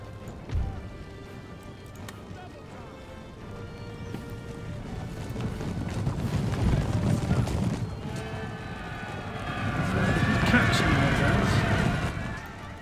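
Cavalry horses in an Empire Total War battle, with hoofbeats and a few whinnies rising and falling amid dense battle noise over about thirteen seconds, swelling loudest toward the end.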